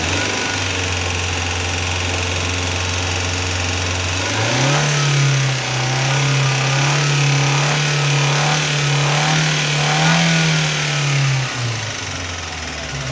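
A car engine revs while its AC gas is being recharged, idling steadily at first, then rising to a higher, sustained rpm hum that wavers slightly before easing back down near the end.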